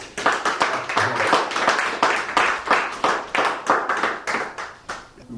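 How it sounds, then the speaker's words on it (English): Audience applause at an investiture ceremony: steady, dense clapping from many hands that holds strong for about five seconds and then thins out at the end. "Please, can we give us another round of applause?"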